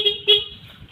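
The short electric horn of a Honda Vario scooter beeps twice in quick succession, the second toot louder, with a faint low rumble underneath.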